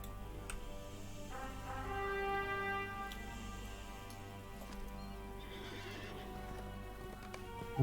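A horse in a video game gives a long, loud whinny with clip-clopping hooves under it, sustained for several seconds and no talking over it.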